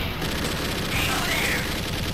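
Rapid gunfire from the 1993 arcade light-gun game Alien 3: The Gun, a dense continuous rattle of shots with game sound effects throughout, loud and steady for about two seconds.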